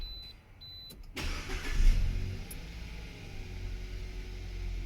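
A Hyundai ix35 engine is cranked and catches after a brief moment, then settles into a steady low idle, recorded up close without any speech.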